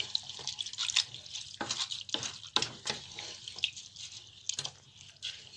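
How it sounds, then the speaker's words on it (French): Water poured into a pot of fish pilau cooked with coconut milk, with intermittent splashes and drips that come in short bursts, close and moderately loud. "Là, je vais rajouter encore une bonne quantité d'eau."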